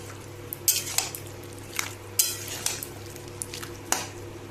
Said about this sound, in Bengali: যে ঢাকা উঠিয়ে আমি নাড়িয়ে তোমাদের দেখিয়ে দিচ্ছি